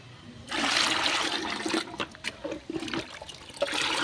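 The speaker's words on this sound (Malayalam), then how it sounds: "ആ മിശ്രിതത്തിലേക്ക് ഒരു ലിറ്റർ പച്ചവെള്ളം ഒഴിക്കുന്നു" A litre of plain water is poured into a liquid plant-feed mixture, producing a steady, close gushing splash that starts after a brief pause and runs continuously to the end.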